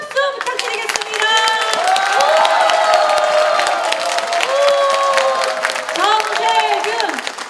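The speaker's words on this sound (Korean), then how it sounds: "큰 박수 부탁드리겠습니다." Large crowd at a political lecture in Jungnang claps and cheers loudly and continuously, with shouts rising above the applause as guests enter and voices chanting over the noise.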